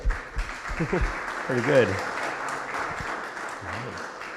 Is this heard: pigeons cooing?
no